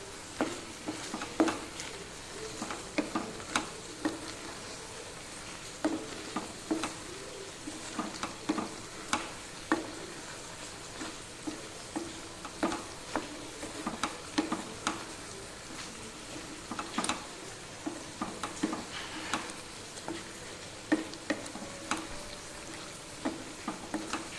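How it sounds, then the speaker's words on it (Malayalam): Malabar-style prawn roast stirred with salt in a pan, a quiet low sizzle under a long run of irregular spoon scrapes and taps against the pan, fairly faint, with no talking. "ഒരു കാൽ ടീസ്പൂൺ ഉപ്പ് കൂടെ ആഡ് ചെയ്ത് നല്ലപോലെ ഒന്ന് ഇളക്കി കൊടുക്കുന്നുണ്ട്"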